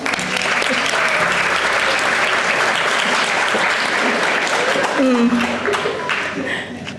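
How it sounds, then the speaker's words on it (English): Wedding guests break into loud, sustained applause for the out-of-town visitors, the crowded clapping steady for several seconds and then thinning, with a voice surfacing as it fades. "Let's give an applause for all the out-of-town guests"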